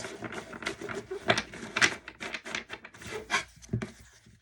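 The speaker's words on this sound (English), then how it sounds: "Cards said they were shuffled enough." Tarot cards being shuffled by hand make a soft, close rubbing and riffling patter in quick uneven bursts, fairly quiet, with no talking.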